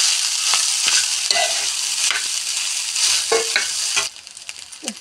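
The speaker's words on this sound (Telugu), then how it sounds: "ఇప్పుడు ఇందులో రైస్ వేసుకుందాం." Rice tipped into a hot pan and stirred, with a steady bright sizzle of frying throughout and scraping stir strokes on top, the sizzle easing near the end; no talking.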